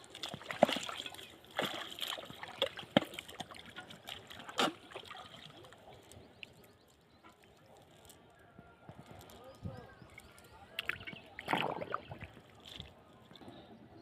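A cast net thrown into a river for prawns: splashes and sloshing water up close, with scattered slaps and trickles and quieter stretches between.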